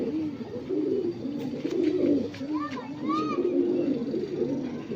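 Lokhande pigeons cooing close by, soft low warbling coos running steadily through the clip with a few higher chirps from other birds mixed in.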